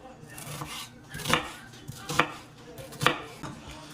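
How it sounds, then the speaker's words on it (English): A knife rough-chops a quarter of an onion on a cutting board, giving a few sharp, evenly spaced thuds up close with no voices. "use about a quarter of this onion, and I'm gonna just chop it like a little rough chop"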